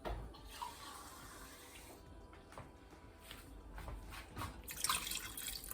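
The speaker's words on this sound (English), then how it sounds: "And now add water." Water runs and splashes steadily into a cooking pot holding washed meat and onions for a chicken stock, a continuous close pouring wash with some clatter and no talk.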